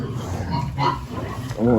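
Piglets in a dirty pen on a small family pig farm grunt and snuffle close by, with a louder squeal near the end, while a person talks over them.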